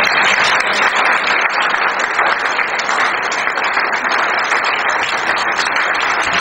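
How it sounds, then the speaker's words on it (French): Steady, dense applause from a large crowd, continuous and loud throughout without letup. "Lui, c'est Sa Majesté, Seigneur Eugène Ier, que je vous demande d'applaudir très fort"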